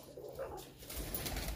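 A big white Indian pigeon coos softly nearby in a short, low, throaty phrase, with no talking.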